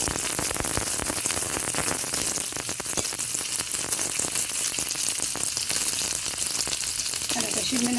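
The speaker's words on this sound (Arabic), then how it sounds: "اللحمه يا جماعه بتتحمر بسمنه بلدي يا جماعه عشان تبقى طعمها حلو" Cooked beef fries in local ghee in a hot pan, a loud, dense sizzle crackling steadily and close up throughout, with a faint scrape of stirring toward the end.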